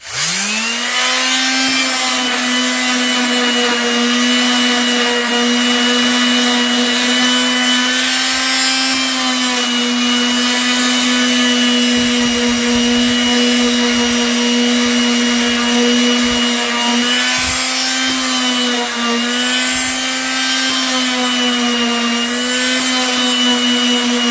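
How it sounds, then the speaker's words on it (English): A power sander runs steadily on wooden flower planter boards, a loud continuous whine with a strong steady hum and a few rougher scraping bursts partway through. "Now, I'm going to take the sander."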